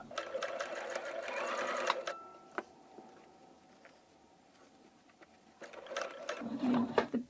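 A sewing machine stitching down the folded pleats of a disposable fabric face mask, running in fast, steady bursts that stop and start again, with quiet pauses and small clicks between runs.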